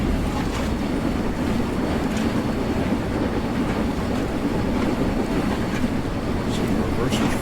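A steam train in Train Sim World 4 rumbles along in a dense, continuous low chug and rolling roar, steady and loud throughout, with no clear talk over it.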